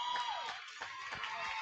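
Student section and visiting crowd at a high school girls volleyball district championship between Quitman and Flippin, a faint, distant wash of cheering and shouting from a packed gym, steady throughout with a few brighter whoops poking through.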